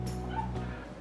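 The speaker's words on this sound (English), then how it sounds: "If that dog doesn't shut up" A dog barks and whimpers somewhere near a backyard barbecue, a short strained yelp over a steady low hum of the cooking setup.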